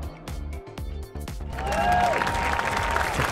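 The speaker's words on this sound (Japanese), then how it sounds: "ちょっと拍手が遅れましたけれども" Applause from a studio audience at the start of a Japanese talk segment, a burst of clapping that swells and continues steadily.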